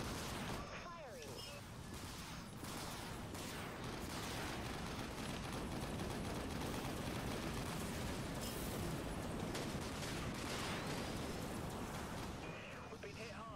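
Dense, continuous weapons fire from a space combat game, a sustained roaring barrage of rapid blasts and impacts filling the whole stretch at steady loudness, with brief chirps of effects layered over it.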